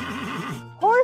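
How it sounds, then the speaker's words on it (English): A horse whinnies loudly in a short burst with rising and falling pitch, preceded by a softer warbling tone, heard alone with no talk. "Whoa, it's a horse."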